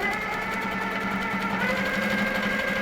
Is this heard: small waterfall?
no